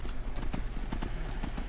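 Horse hooves clip-clop at a steady trotting rhythm in Skyrim, loud and close, with a faint game background underneath.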